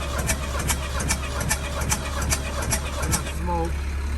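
A Ford 550 backhoe tractor engine cranks over on a jump pack with a steady, rhythmic chugging of repeated compression pulses over a low drone, close by and without catching, and a person speaks briefly.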